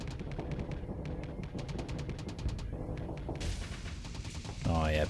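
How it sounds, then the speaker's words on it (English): Torpedoes launch in the space game Starsector amid rapid, evenly spaced weapon reports forming a dense rattling barrage, with a louder burst and rising whine at the end. "Torpedoes away."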